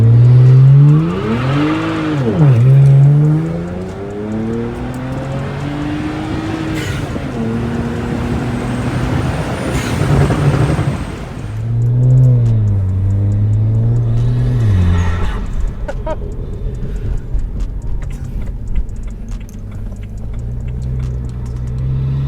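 Loud revs from a BMW 335i's twin-turbo N54 engine fitted with a sound tube, rising and falling several times with intake whoosh and a deep rumble, then easing off to an idle.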